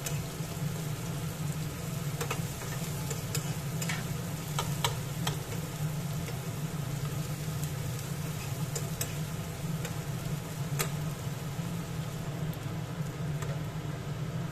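Finely chopped onion fries in hot oil with panch phoron for a spinach kofta curry, giving a steady low sizzle with scattered crackles and occasional clicks of a stirring spoon, no voices.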